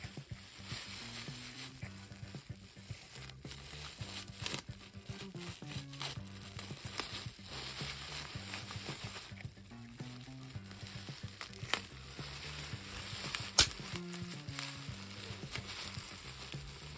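Plastic wrap being peeled and crinkled off a thrifted Generation Girl Lara doll, a faint continuous rustling with scattered crackles over a soft background tone.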